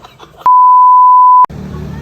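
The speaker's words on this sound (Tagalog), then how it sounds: "Ay, telepono. May tumawag sa'yo." A single loud, pure electronic beep from a phone holds steady for about a second, cutting sharply in and out between quieter background sounds.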